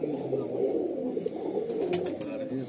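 Pigeons coo softly and continuously at a loft in Barasat, a low steady burbling close by with faint background noise.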